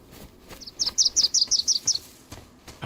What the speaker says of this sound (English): Oh, why is that bird noise so loud?